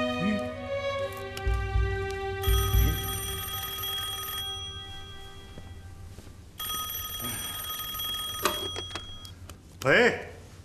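An old-style telephone bell rings in repeated bursts inside a military commander's office during a wartime drama, loud and close, with a voice talking between the rings.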